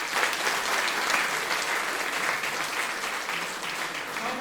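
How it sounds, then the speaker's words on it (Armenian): An audience at a school concert gives the student performers a loud, sustained round of applause, thick and even from start to finish, with no voices rising above it. "բարեկամներ, եկեք կրկին անգամ բարձր ծափահարենք մեր սիրելի աշակերտներին"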